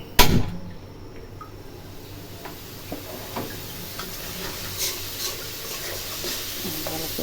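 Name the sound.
stirring pumpkin curry with chili in a pan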